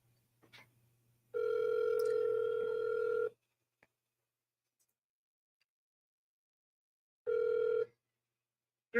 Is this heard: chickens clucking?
no